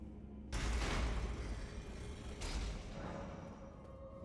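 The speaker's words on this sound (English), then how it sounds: "Heavy door opened, yeah." A heavy door in the video game Elden Ring, in Sage Cave, grinds open with a deep rumbling rush, followed by a second low swell of mechanical noise; loud, with no voices.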